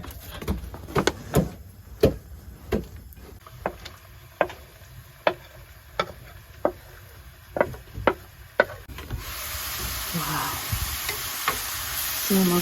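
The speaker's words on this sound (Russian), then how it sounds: "Все у нас тут жарится," Borscht dressing fries in a pan on a gas stove, a quiet sizzle under regular sharp scraping knocks of stirring, then a louder hissing fry swells near the end.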